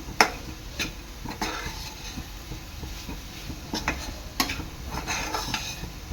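Dry fruits being stirred into a hot jaggery and coconut mixture in a pan over a low flame, repeated clinks and scrapes of a spoon against metal over a low background sizzle.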